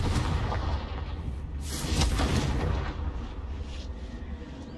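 A Confringo explosion spell in Hogwarts Legacy, a loud rumbling blast with a sharp burst near the middle over a continuous low roar.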